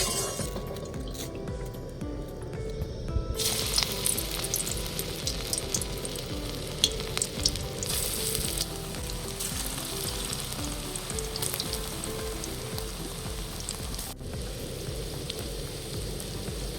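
Mustard flower fritters (bora) fry in hot oil with a loud, close, continuous sizzle. The crackle shifts and briefly intensifies as batter is added and turned, and no voices are heard.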